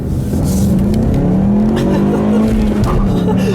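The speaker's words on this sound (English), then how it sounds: "I'll leave you guys a nice little acceleration here" A Ford Mustang accelerates hard with a loud, close engine roar that rises in pitch through the gears, and its tires give a brief chirp on the shift into second.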